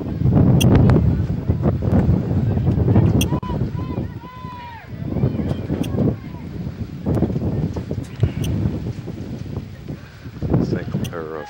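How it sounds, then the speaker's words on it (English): Heavy wind gusting around 50 to 60 mph buffets the microphone at an outdoor girls' soccer game, rumbling loudly with a voice speaking intermittently over it. "Some very high winds. I would say gusting probably 50, 60 miles an hour."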